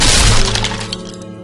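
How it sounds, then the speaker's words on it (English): A foot smashes through an acoustic guitar, a loud close crash of splintering wood and strings that rings out and fades over about a second and a half, alone without talk. "my foot went right through the strings and crashed in the whole guitar"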